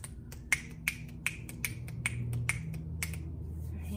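A group of children snap their fingers together to mimic a storm in a church kids' lesson, producing crisp, regular snaps roughly every half second, moderately close, with a low murmur of room noise and rubbing beneath.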